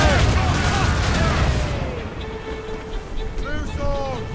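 Ship cannons firing in a naval battle in Assassin's Creed Rogue, a rumbling volley of booms that fades, with shouting crew voices and whistling projectiles over the sea.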